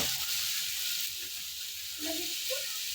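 Tomatoes and val papdi beans sautéing in hot oil in a pan, a steady soft sizzling hiss running throughout at low volume, with faint clinks of stirring.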